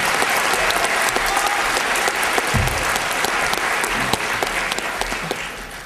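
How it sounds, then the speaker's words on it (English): A debate audience breaks into sustained applause, a dense, loud wash of many hands clapping steadily throughout with no voices on top. "Mr. Yusuf just asked if you can give a round of applause for Johan"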